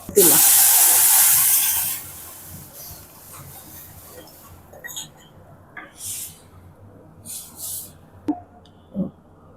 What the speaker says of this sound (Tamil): நான் சின்ன வெங்காயம் தான் போட்டு தாளிக்கிறேன்